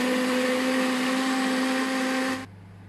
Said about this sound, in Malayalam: നമുക്ക് മിക്സിയുടെ ജാറിലിട്ടിട്ട് അടിച്ചെടുക്കാം കേട്ടോ.